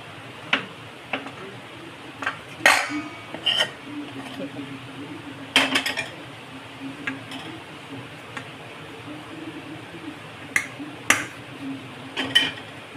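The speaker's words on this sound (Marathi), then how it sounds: "चला आता आपण हे एका भांड्यामध्ये काढून घेऊया." A cooked mixture is scraped out of a wok into a bowl, with scattered metallic clinks and scrapes of a spoon against the pan, close by, and a voice talking in between.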